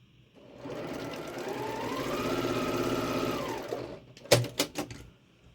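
A sewing machine stitches quilt pieces together in a steady, close, rhythmic whir lasting several seconds, then slows and stops with a few distinct clunks of the mechanism.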